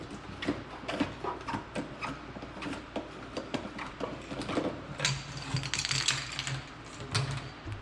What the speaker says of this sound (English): to actually plug it in, you want to unscrew your hose